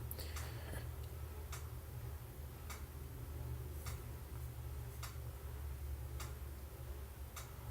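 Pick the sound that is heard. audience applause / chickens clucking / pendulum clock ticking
pendulum clock ticking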